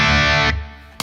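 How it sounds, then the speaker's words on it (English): Electric guitar through a Tone City Wildfro distortion pedal at full gain in crunch mode: one sustained, heavily distorted chord rings for about half a second, cuts to silence, then a short fresh pick attack comes in at the end, with no talking. "So with full gain on a crunch,"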